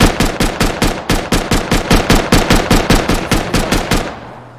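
Explosive ammunition fired at a wall in the game Rust, a rapid automatic burst of about twenty sharp, loud shots in an even rhythm, stopping abruptly with a brief fading tail.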